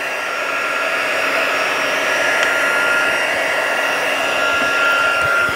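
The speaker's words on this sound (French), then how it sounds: "je vais prendre mon pistolet chauffant" A heat gun running on its second speed heats a craft piece, giving off a steady, loud blower whoosh with an even airy hiss that holds without break from start to finish, and no voices over it.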